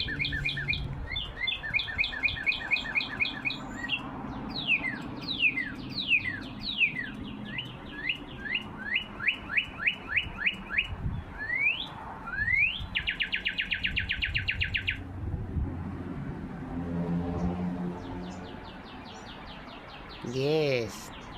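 Real birds chirp and trill in reply to a fake bird call, with rapid repeated whistled phrases and fast buzzing trills in bursts. Quieter stretches follow, and people talk under the birdsong.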